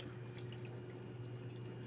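Water drains from the rubber drain plug of a faulty washing machine, a steady close trickle with soft drips over a low motor-like hum.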